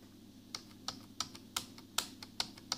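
Keystrokes on a Lenovo Calliope USB keyboard with a plastic feel, about seven distinct clicks at an uneven, unhurried pace, close and fairly quiet over a low hum.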